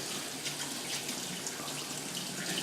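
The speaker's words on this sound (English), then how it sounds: "Rinse off my hands one more time." A kitchen tap runs as hands are rinsed during cooking, a steady close hiss of water with faint splashes from the hands moving in the stream.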